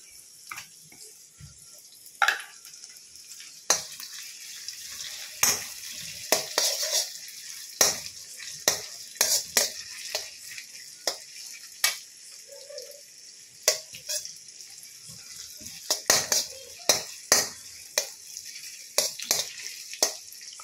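Chopped ginger sautéing in a pan for homemade millet noodles, a steady faint sizzle broken by frequent sharp clicks and scrapes of stirring, with no talk.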